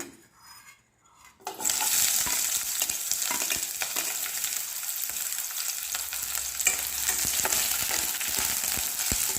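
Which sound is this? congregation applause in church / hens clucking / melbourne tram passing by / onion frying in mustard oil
onion frying in mustard oil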